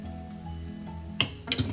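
Curry leaves and small green chilies sauté in a pan for a white tuna pepper curry, giving a low steady sizzle with a few bright clinks and scrapes of a spoon near the end.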